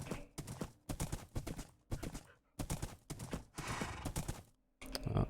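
A Minecraft horse gallops, its hooves thudding in loud, rapid clip-clop bursts separated by short pauses, close and punchy with no talking over them.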